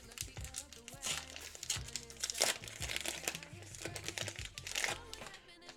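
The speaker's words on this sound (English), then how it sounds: "Another Match Attax 22-23 pack opening." A Topps Match Attax 2022/23 football card pack's foil wrapper is crinkled and torn open up close, with continuous dense rustling and crackling throughout.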